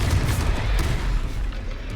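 A Confringo blasting spell goes off in Hogwarts Legacy as a dense, roaring burst that fills the whole two seconds, loud and continuous with a heavy low rumble and no voices.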